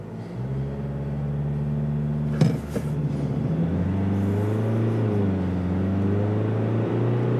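Ford Ranger Wildtrak pickup with a 2.0 BiTurbo diesel pulling away from a standstill, a steady engine rumble rising in pitch through the gears after a brief knock, heard from inside the cabin.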